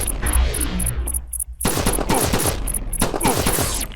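Loud gunfire in the game Flashback comes as rapid automatic bursts with a short lull in the middle, then more sharp repeated shots.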